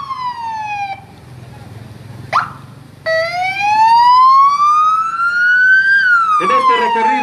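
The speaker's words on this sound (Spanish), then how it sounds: "Queremos escuchar también las sirenas." Police and emergency vehicle sirens wail loudly and close as the vehicles depart, rising and falling in long sweeps after a short yelp burst, over engine rumble and faint background voices.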